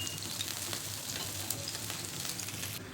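Pumpkin and sweet potato thalipeeth fry uncovered in a pan, giving a steady, close crackling sizzle with no voices.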